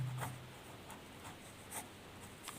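A pen writes on paper with soft, scratchy strokes in short repeated bursts, quiet and close, no voices over it.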